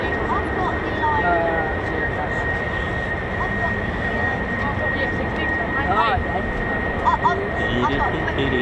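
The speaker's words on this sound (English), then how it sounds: "So these were the F-16s that landed earlier, just taxiing back to the park." F-16 fighter jets taxi back to parking at an air base, a steady loud whining engine roar held throughout, with a voice talking over it.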